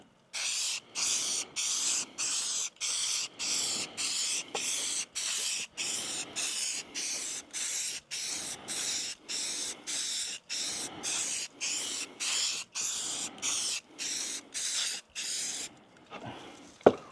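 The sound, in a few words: spray painting colours on beehives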